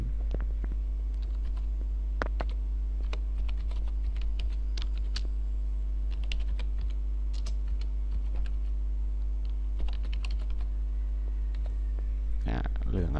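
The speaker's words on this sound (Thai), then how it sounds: "คราวนี้ผมจะ ทำการพิมพ์นะครับเข้าไปตรงตรงด้านบนนะครับ" Keys tapped on a computer keyboard, with irregular close clicks and short bursts of typing over a steady hum, while someone talks throughout.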